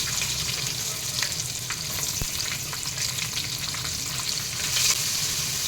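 Roughly chopped onions fry in hot oil in a pan with cooked urad dal while sambhar is being made, giving a steady close sizzle with a few light stirring scrapes and no talk.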